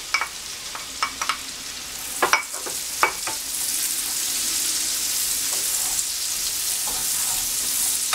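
Diced celery is stirred into hot butter in a pan as cornbread dressing is made, with a few sharp utensil clinks and scrapes before a steady, close sizzle fills the rest.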